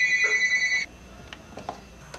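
A telephone rings with a bright electronic trill for most of the first second, then stops, leaving quiet room noise and a few faint knocks.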